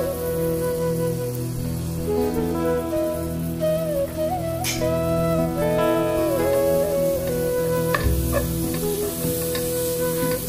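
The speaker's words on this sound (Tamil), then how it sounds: "இந்த ஸ்டேஜில் வந்து மசாலா சேர்க்கும், மசாலாட பச்சை வாசனை போகும் வரைக்குமே இதை வந்து சோட்டை பண்ணிக்கொள்ளணும்" Masala sautéing in hot oil in a home kitchen while a dinner dish is cooked, giving a steady close sizzle and frying crackle with occasional stirring scrapes, and music playing underneath throughout.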